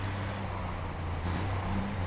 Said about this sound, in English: This little truck's got some power in it.